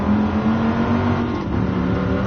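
Stock car engine in Gran Turismo Sport on PS4, a loud, sustained droning roar held near steady revs with a slight dip midway, close and alone without any talking.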